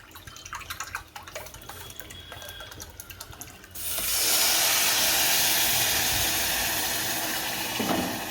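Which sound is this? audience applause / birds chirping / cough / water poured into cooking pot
water poured into cooking pot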